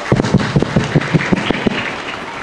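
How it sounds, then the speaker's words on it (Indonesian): A crowd at a madrasah graduation ceremony claps in a quick, regular rhythm, a close run of about a dozen sharp beats. "Tepuk tangan."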